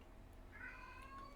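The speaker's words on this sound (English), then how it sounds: "If you hear cats meowing, that's some of our cats in the background meowing." Several household cats meow in the background, a faint, drawn-out cry rising midway through and repeating softly over a steady low room hum, with no one talking.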